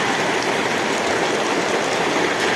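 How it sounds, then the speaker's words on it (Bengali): A dense, constant wash of rainfall, loud and even throughout, with no voices over it. "এখন তো বৃষ্টি হতেছে"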